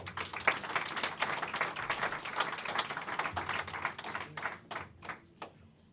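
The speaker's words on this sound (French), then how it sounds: "Je vous demande des applaudissements pour Anaïs Buffard." A conference audience applauds steadily, dense clapping throughout that thins into scattered individual claps near the end.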